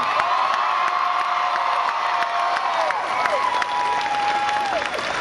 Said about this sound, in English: Ladies and gentlemen, a nice round of applause again for the coach and for the players.